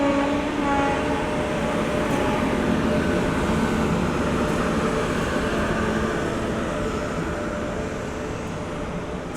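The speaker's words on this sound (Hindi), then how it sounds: "2 ट्रेनें के क्रॉसिंग हो रहा है। अरे भाई 2 ट्रेनें एक साथ। गोल्डन टेम्पल मेल जो उधर से जा रही है।" Two trains crossing as the Golden Temple Mail passes by, a steady loud roar of rolling wagons and rail noise that stays constant throughout.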